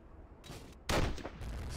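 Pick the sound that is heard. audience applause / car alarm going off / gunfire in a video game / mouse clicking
gunfire in a video game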